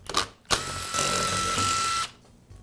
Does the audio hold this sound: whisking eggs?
no